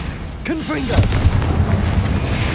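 Confringo spell blast in the Hogwarts Legacy video game: a booming burst with a fiery, crackling rumble that trails off, and a voice calling out briefly at the start.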